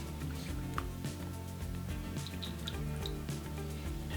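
Oil pours into a bowl of vegan salami dough mix with soft dripping and faint liquid splashes, a few seconds long and quiet beneath steady background music.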